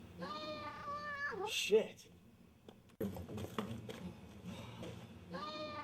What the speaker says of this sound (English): Where did that cat come from?